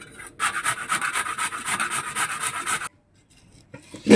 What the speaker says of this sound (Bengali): আদাটা ঘষে নিচ্ছি